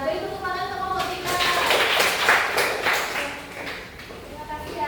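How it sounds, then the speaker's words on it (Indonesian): A school class claps for a presenting group during a lesson, a few seconds of scattered hand claps, close and fairly loud, with voices talking over them. "tepuk tangan untuk kelompok 3"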